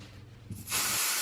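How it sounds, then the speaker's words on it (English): A short burst of spray adhesive hisses steadily from an aerosol can, loud and close, following a brief moment of quiet handling. "I just give it a little spraying"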